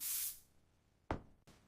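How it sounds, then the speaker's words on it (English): A single short burst of perfume spray hisses close by, then fades, followed by a couple of faint knocks. "I spray perfume."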